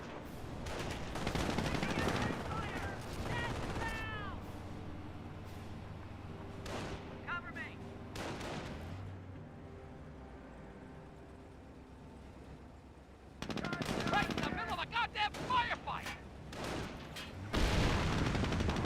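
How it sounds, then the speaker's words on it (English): Bursts of MG42 machine gun fire and explosions from the World War II strategy game Company of Heroes come in clusters at moderate volume, with quieter stretches of lighter battle noise between them. "We do have now the MG42 set up over here, getting some damage"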